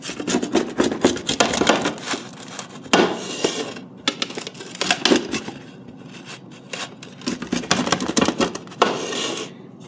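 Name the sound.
cutting into a crispy thin crust pizza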